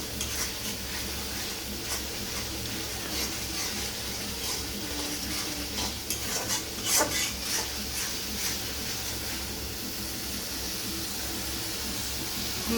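Masala spices fry in oil while being stirred, a steady close sizzle with continuous scraping and stirring throughout.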